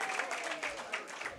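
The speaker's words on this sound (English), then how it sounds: "Give a nice round of applause to Elena and Drew." Audience applause welcoming two student trainers, a steady, dense patter of clapping that holds even and fairly close for the whole short stretch, with no talk over it.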